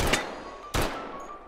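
Two sharp pistol shots in the video game Hot Dogs, Horseshoes & Hand Grenades, loud and close, the second following about half a second after the first, each cracking and then fading into a short ringing tail.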